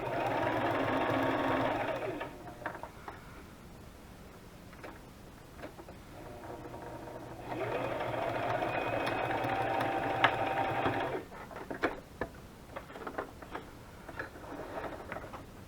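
A sewing machine stitching a junk journal cover runs in two steady whirring bursts of a few seconds each, close and clear, with quiet ticks and handling noises between and after them.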